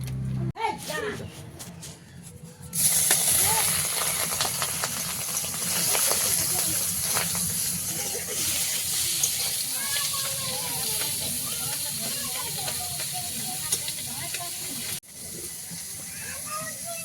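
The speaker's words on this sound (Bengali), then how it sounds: "এবার মাছে নুন হলুদ মাখিয়ে আর মাছটা ভালোভাবে ভেজে নেব" Tengra fish coated with salt and turmeric frying in a pan over a lit earthen stove, a steady loud hiss and sizzle with crackles that starts abruptly and runs under faint background voices.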